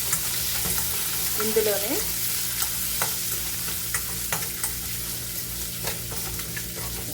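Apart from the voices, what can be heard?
frying ginger and garlic in a pan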